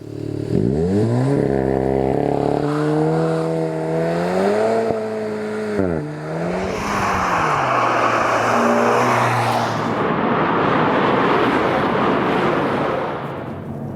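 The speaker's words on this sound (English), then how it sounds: "track time with the Golf GTI TCR, and we go to the sports mode" A VW Golf GTI TCR street-legal car accelerates hard on a racetrack in sports mode, its engine note climbing through several rising gear pulls with brief dips at shifts, then giving way to loud roaring wind and road noise.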